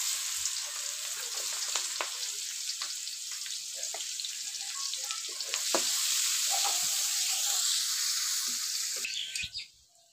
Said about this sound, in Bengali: পেঁয়াজ ভাজা হয়েছে